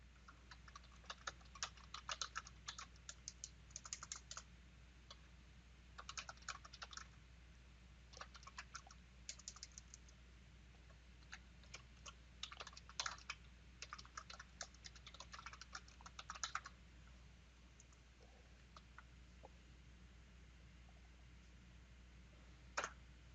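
Steady quiet typing on a computer keyboard, bursts of soft key clicks coming and going in a calm room with no voices.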